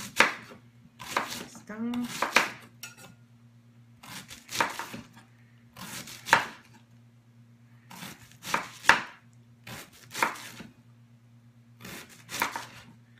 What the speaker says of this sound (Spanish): continuamos con la picada de nuestra col